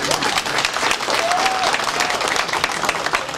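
Audience applause at a stage event in Georgia, a steady wash of clapping from a crowd that holds evenly for a few seconds, with a brief whistle and some murmuring voices mixed in.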